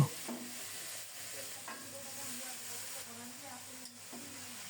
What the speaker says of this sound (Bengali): এবার শাক দিয়ে দেব।